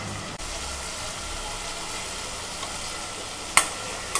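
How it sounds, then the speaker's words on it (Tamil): Rice stirred in a hot pan over a low flame for Tamil paruppu sadham, a steady soft sizzle with light scraping, and a couple of sharp clinks of a spoon near the end. "அதுக்கப்புறம் நம்ம ரைஸ் ஆட் பண்ணிக்கலாம்."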